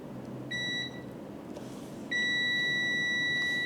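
Multimeter continuity beep as the test probes touch: a short steady electronic tone, a pause, then a second sustained beep, loud and close over low background hum.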